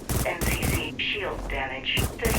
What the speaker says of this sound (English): I'm using the combat rifle right now